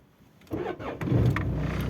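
A car engine cranks briefly and catches, settling into a steady, close idle after a short starter whine.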